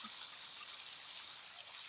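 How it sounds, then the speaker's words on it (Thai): Steady stream of water flowing from a solar-powered pump in bright sunshine, a soft continuous trickle and splash held at an even level throughout, faint and without talk. "น้ำไหล แล้วก็ไฟแรงจ้ะ"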